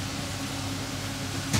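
Continuous droning hum of a small portable air conditioner running inside a camper trailer, steady and fairly close, with a brief soft knock near the end.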